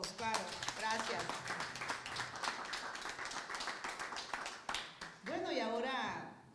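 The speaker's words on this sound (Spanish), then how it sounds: "un aplauso para todos" Applause from the audience at a Spanish-language community gathering for older adults reuniting with family, a busy patter of clapping mixed with cheering voices and talk, ending as a voice rises over it.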